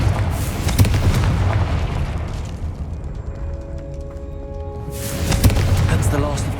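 The Confringo fire spell in Hogwarts Legacy sets off heavy booming explosions with rumbling crashes, loud at the start and again near the end, with quieter game sounds and a voice in between.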